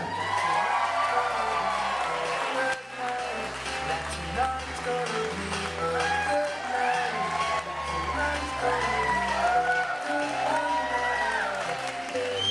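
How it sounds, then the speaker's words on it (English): A large crowd of wedding guests claps and cheers continuously for the newlyweds, with whoops and excited shouts rising above steady applause. "please keep your applause going"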